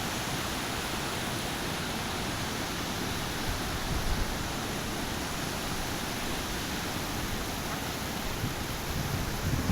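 Rough surf breaking on Cox's Bazar beach, a steady broadband roar of waves with no pauses and slight swells, loud and continuous with no voices.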